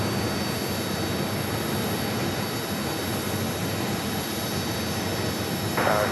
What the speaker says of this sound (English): United, brand new 737 MAX 9, heading in to the north side gates of Terminal 3.